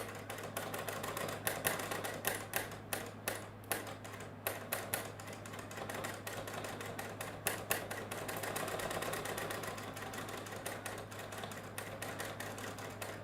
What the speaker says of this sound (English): you're just free motion sewing as if you were free motion quilting